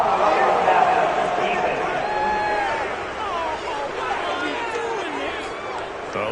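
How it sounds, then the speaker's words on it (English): A stadium crowd in an American football video game reacts to a penalty call with a broad, sustained roar and scattered boos spread across several seconds, steady and moderately loud, with no distinct voices standing out. "this crowd does not like that call."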